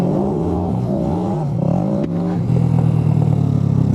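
A Suzuki GN125 motorcycle pulls away in first gear: a close, loud single-cylinder engine with rising and falling revs and some mechanical clatter, heard on its own.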